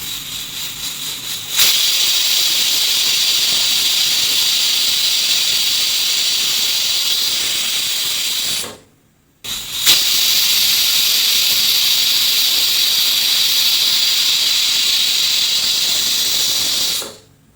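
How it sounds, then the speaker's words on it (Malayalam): A pressure cooker cooking beef lets out two long, loud, sustained steam whistles with a harsh hiss. A brief silent gap separates them, and no talk is heard. "ഒരു 7-8 വിസിലെങ്കിലും കേൾക്കണം കേട്ടോ."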